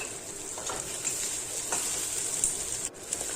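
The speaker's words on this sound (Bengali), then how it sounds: "টমেটোগুলো একটু হাফ ভাজা করে নেব।" Chopped tomatoes frying in a pan for a vegetable dal, giving a steady close sizzle with faint stirring scrapes and brief crackles throughout.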